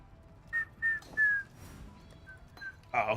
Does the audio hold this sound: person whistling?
yes